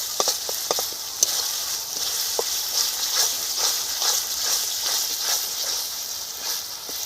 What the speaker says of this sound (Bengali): মশলাটা হাফ ভাজা হয়ে গেছে।